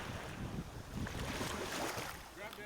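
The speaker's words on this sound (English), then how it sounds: "the serene sound of miniature waves inescapable across the island" Small ocean waves lapping at an island shore in Turks and Caicos, a steady soft wash of surf with some wind noise on the microphone, continuous and fairly close throughout.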